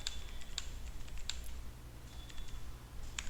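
Typing numbers into an Excel spreadsheet on a computer keyboard: a few sparse, light key clicks spread across a steady low room hum, with no talking.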